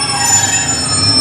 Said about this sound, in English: going out now is the 1508 Great Western Railway service to Exmouth, starting here at Paignton.